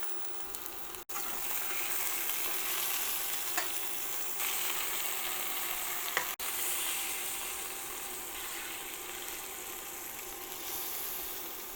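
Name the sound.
turkey breast browning in a pan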